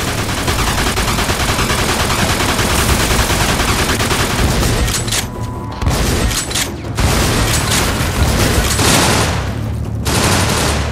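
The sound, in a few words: gunfire in Mafia 2 video game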